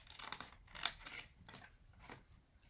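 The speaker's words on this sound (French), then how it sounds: "vous pouvez le faire au coupe-papier, au ciseau, comme vous le souhaitez" Scissors or a paper knife cut along a sheet of scrapbooking paper in a crafting project, giving several crisp, close slicing crunches in uneven bursts with no talk over them.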